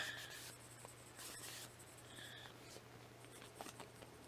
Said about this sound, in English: I'm barely touching the pencil to the paper.